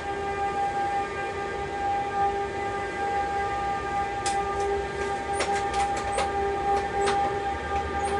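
A freight train hauled by a Traxx 186 electric locomotive starting off, with steady loud electric traction whine and tonal hum, and scattered metallic clicks and squeals building as it begins to move.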